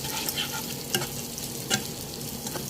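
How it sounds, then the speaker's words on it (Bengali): Shrimp and onion frying in a pan with a few drops of ghee, a steady loud sizzle broken by three sharp stirring scrapes, no voices. "2 মিনিটের মতো ভাজবো, এরপরে এটি নামিয়ে নেব।"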